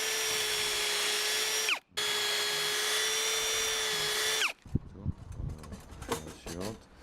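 A power drill bores pilot holes for a trike cart with a loud, steady whine that stops briefly, runs again, then winds down into scattered clatter and handling noise.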